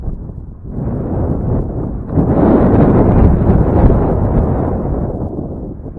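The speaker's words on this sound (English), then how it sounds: "Super windy today." Strong wind buffets an outdoor microphone on a fishing outing, a loud low rumbling roar that swells and persists throughout with no other sounds.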